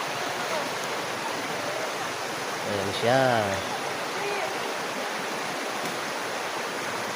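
River flowing under a highway bridge in Napsan, a steady broadband rushing hiss throughout, with a voice speaking briefly over it midway.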